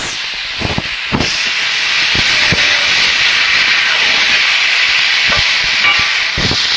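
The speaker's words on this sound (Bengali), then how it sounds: "এভাবে নাড়াচাড়া করে একটু বেশি সময় ধরে আস্তে আস্তে ভাজা করে নিতে হবে বিটটা" Beetroot frying in hot oil in a wok, a steady broad sizzle and hiss with occasional louder crackles and stirring knocks, continuous and close.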